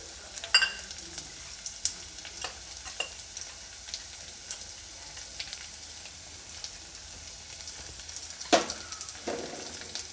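Chopped onion frying with finely cut coriander leaves in a pan for a beetroot stir-fry, a soft steady sizzle broken by a few sharp scrapes and clatters of a utensil, with no voices.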